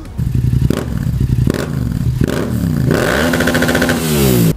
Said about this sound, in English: So the sound you just heard from the FZ07 is a 270-degree crank,